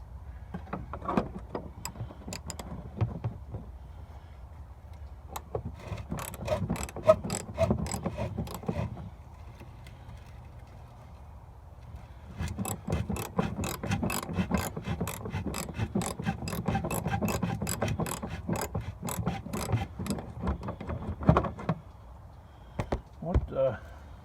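Wrench turning a stripped bolt that keeps spinning on its last few threads, heard as bursts of rapid ratcheting clicks with pauses between, close and fairly loud, with a voice speaking at times.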